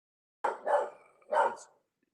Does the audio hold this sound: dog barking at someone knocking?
yes